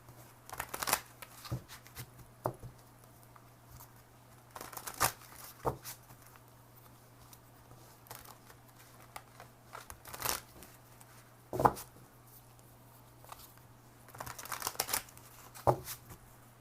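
Tarot cards being handled and picked from a deck, heard as soft shuffling, sliding and crinkling bursts at irregular intervals over a quiet room with a steady low hum.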